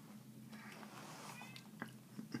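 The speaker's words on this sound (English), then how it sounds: "And that's my cat crying." A pet cat cries from nearby with a few brief, moderately loud meows over a steady low background hum, with no one speaking.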